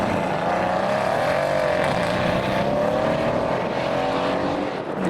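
A modified car at a Belgian car show accelerates with traction control switched off, a loud, sustained engine roar rising in pitch nearby, with no talking.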